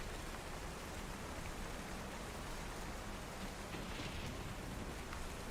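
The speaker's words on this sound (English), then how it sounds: "it's still out there raining. Pouring, really. Lightning, thunder, howling winds." Heavy rain pours down continuously in a storm with thunder and wind, a dense, even hiss of rainfall that stays steady and fairly close with no pauses.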